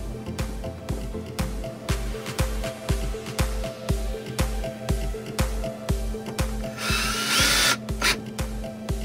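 A power drill drives four screws into a magnetic to-do board. Repeated short whirring bursts start and stop in a steady rhythm, loud and close, with a brief harsher grinding burst near the end.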